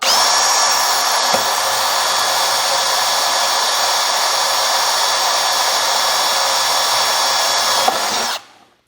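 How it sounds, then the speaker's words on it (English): A power drill with a 1/8-inch bit whines steadily at high speed for about eight seconds, pre-drilling a hole in an aluminum deck railing corner post, close and loud, then cuts off abruptly. "Using a 1/8 drill bit, pre-drill the hole."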